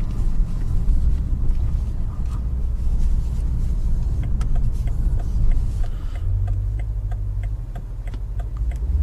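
A BMW M5 Competition with xDrive accelerates on a wet road at night, its engine a loud steady low rumble heard from inside the cabin, with faint ticking from an indicator and a drop in engine note partway through.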